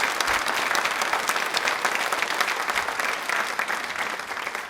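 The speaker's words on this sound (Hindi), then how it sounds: "तालियां सरला जी के लिए जोरों से शोरों से होनी चाहिए प्लीज।" Steady, dense applause from a studio audience on a Rajasthani quiz show, clapping for a guest named Sarla, loud and continuous with no speech over it.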